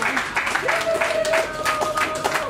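Wedding guests clapping at a Congolese wedding celebration, a moderate round of applause with a steady tone and voices running underneath.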